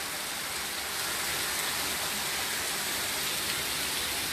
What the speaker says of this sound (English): It's heavy rain, you know.